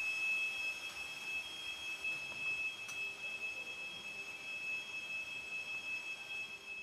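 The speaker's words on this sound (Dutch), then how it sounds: "Dit alarm gaat af als er gebrek aan zuurstof wordt gemeten." Oxygen-deficiency alarm in the ATLAS detector cavern, a steady high-pitched electronic tone sounding continuously at moderate level over faint background hum.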